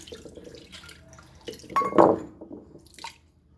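A short splash of water poured into a container, brief and close, with a few faint drips before and after in a quiet room.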